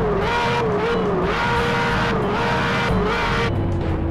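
A loud Ferrari FXX-K engine in GTA San Andreas revs continuously, its pitch rising and falling in waves with a harsh, buzzy roar, sounding like a high-performance car being pushed.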